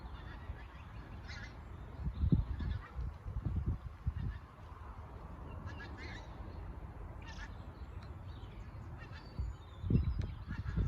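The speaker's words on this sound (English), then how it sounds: "Can hear some geese. Here they come." Geese flying over trees honk in scattered calls, some bursts close and others distant, over a soft background with occasional rustling.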